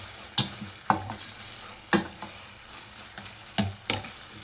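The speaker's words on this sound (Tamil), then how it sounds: "இந்த மாதிரி டொமேட்டோவும் ஆனியனும் நல்லா வதங்கணுங்க." Tomato, onion and curry leaves sautéing and being stirred in a pan, with a soft steady sizzle broken by sharp scrapes and clinks of a spatula at irregular intervals, close and moderately loud.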